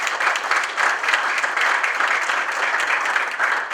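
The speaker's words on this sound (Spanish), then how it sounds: "a quien le pido un fuerte aplauso" Applause from an audience at a justice-sector event honoring a magistrate, a dense, moderately loud round of clapping that pulses slightly in waves and continues throughout.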